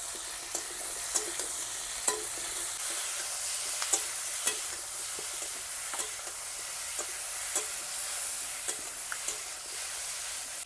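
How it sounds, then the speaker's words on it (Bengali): Cauliflower and potatoes frying in a pan with a steady sizzle, broken by small clicks and scrapes as the pieces are stirred; no one speaks. "ফুলকপি আর আলু ভালো করে ভেজে নেব।"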